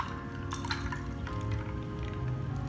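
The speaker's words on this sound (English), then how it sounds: "and pour that into my cup." Iced AeroPress coffee pours into a cup, a steady close liquid trickle with light splashing and faint clinks of ice throughout.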